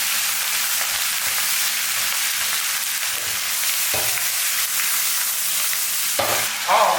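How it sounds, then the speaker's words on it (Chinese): Oyster mushrooms and cabbage stems stir-fried in a wok, giving a loud, dense, continuous sizzle with occasional spatula scrapes and tosses, close up and uninterrupted by voices. "加入海鲜菇、白菜帮子也加进来，快速的翻炒均匀"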